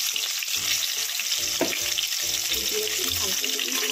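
Food fries in a pan with turmeric and salt, a steady bright sizzle with occasional stirring scrapes and clinks, close and continuous.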